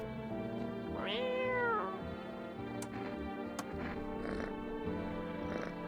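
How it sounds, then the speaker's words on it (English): Cat meowing in a video game, one clear rising-falling meow early on over a steady low background drone, followed by faint ticks and soft noises. "Oh, there's a cat."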